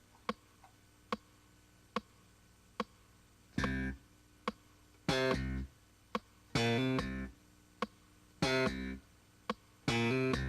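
A slap bass line is played with short, clipped notes and a hammer-on: sharp percussive slaps and pops come in bursts, with light ticks keeping time between them, close and unaccompanied.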